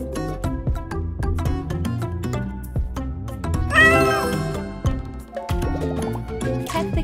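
Cat meows from the video game Move Animals ring out over a busy, melodic game soundtrack, with a couple of drawn-out meowing calls rising above the music midway through.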